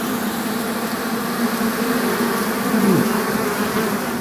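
Dense swarm of honey bees buzzing steadily at an open beehive in Jamaica, close and loud throughout, a continuous hum with individual bees passing near.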